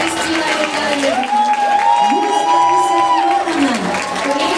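A school ceremony audience claps in a sustained, even wash at a primary-school farewell event in Anadyr, with a held musical tone and crowd murmur layered over the applause.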